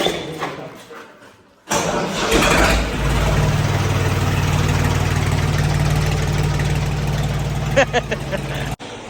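A stalled tractor's engine cranks and catches, then settles into a loud, steady low idle that runs for several seconds before cutting off abruptly.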